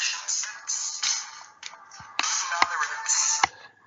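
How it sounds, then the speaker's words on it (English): A phone ringtone sounds for the wife's incoming call: a bright electronic melody in repeated phrases over several seconds, moderately loud, with a few sharp clicks mixed in and no talking. "See, now that's my wife's ringtone."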